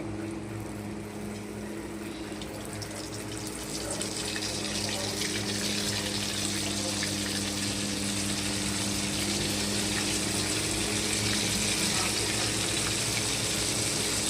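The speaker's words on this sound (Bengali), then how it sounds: "আমার তেল গরম হয়ে গেছে। এবার আমি একটা একটা করে মাছগুলো ছাড়বো।" Small, soft lote fish, dropped three or four at a time into hot oil, fry with a continuous broadband sizzle that swells after a few seconds and stays loud and even.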